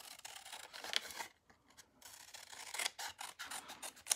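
Scissors cutting paper into a straight-edged coffin shape, quiet close rasping snips in short runs with a brief pause midway, faint overall.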